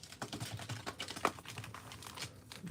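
Magic: The Gathering cards being shuffled by hand close up, a quiet run of crisp papery flicks and riffles with one sharper snap partway through and no voices.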